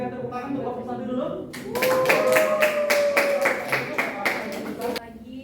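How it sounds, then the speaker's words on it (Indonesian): A classroom of students applauding a presenting group, a burst of rapid, fairly close clapping lasting a few seconds that follows a voice and ends with quiet talk. "Kita berikan tepuk tangan untuk kelompok 1 dulu."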